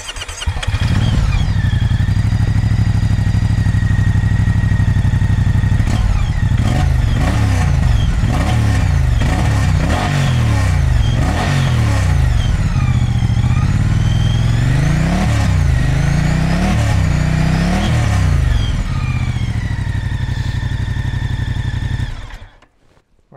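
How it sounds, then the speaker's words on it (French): A 2024 Moto Guzzi Stelvio's engine runs steadily and loudly close by, with a string of sharp throttle blips sweeping its pitch up and down before it suddenly cuts off near the end. "je vais te faire écouter le son de cette moto"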